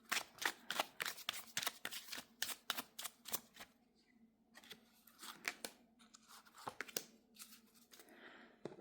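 A tarot and oracle deck is shuffled by hand up close, quick papery riffles and snaps in rapid bursts with short pauses between, quiet and with no talk.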